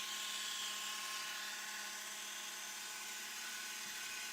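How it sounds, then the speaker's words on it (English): A Dremel rotary tool runs steadily with a high, constant whine and broadband buzz, close and loud with no pauses. "Time to silence the Dremel for a minute."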